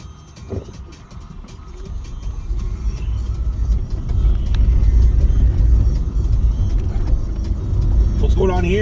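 A big truck rumbles with a heavy, steady low drone that grows louder and closer over several seconds, with faint background sounds and a brief higher noise near the end.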